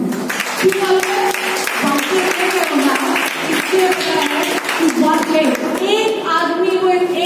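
Seminar audience clapping at a financial talk in India, steady applause under loud music or amplified voices that carry across the whole stretch.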